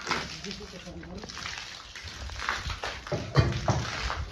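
Fresh well water from a hose pipe sloshes and splashes steadily, close by, with voices talking over it throughout.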